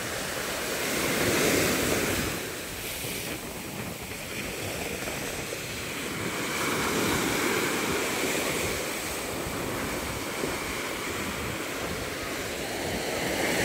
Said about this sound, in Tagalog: Hindi na masyadong malakas yung hampas ng alon.